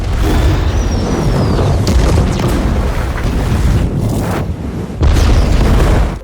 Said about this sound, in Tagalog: Ang bombang nakakabit sa sasakyan ay sumabog na nagdulot ng napakalaking pagsabog